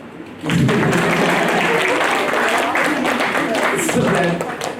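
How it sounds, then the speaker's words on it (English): An audience at a startup founder's business talk claps, breaking into dense, steady applause after a half-second and holding it for about four seconds before it thins out at the end. "I think you guys can give a clap."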